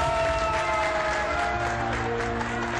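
A group of people applaud in solidarity, a steady, even patter of clapping heard at a moderate distance, mixed with sustained music tones underneath.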